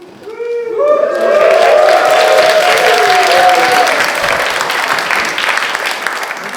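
Wedding guests break into sustained applause at a reception as the father of the bride steps up to speak, clapping swelling quickly to a steady loud roar and holding, with a few voices mixed in.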